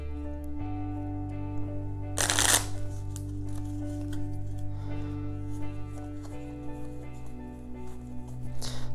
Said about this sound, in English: we'll just kind of shuffle them up